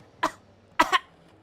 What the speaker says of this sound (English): coughs violently